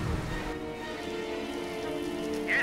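Rain falls in the video game Company of Heroes, a steady, even patter and hiss that continues evenly throughout the short stretch with no talk.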